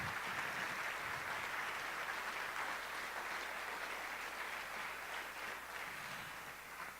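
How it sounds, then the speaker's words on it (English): Sustained crowd applause for award winners at a Radical Center awards and graduation ceremony, an even wash of many clapping hands that holds steady and fades slightly toward the end. "please give them a round of applause"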